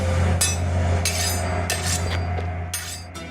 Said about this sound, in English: Damn, the bolt just bounced off.